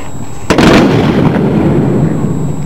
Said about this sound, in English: Now that was a squad volley.